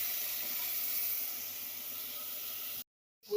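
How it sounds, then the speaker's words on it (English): Tomatoes with salt cooking in a pan, a steady soft sizzle and hiss that runs on evenly, then cuts to silence briefly before resuming. "So I'm going to stir them until they cook."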